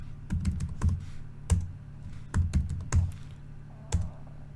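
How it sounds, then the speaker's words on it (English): Typing a new password on a computer keyboard: sharp, close key taps in irregular small clusters, several quick presses then pauses, with no voice. "We will type in a new password."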